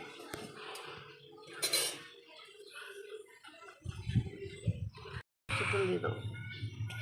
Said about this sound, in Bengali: উনুনটা ধরে গেছে, এখন কড়াই বসিয়ে দেবো।